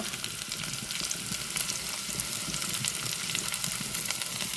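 Fenugreek seeds fry in hot oil with shallots and garlic for a dried-fish curry, making a dense, steady sizzle that stays close and unbroken throughout.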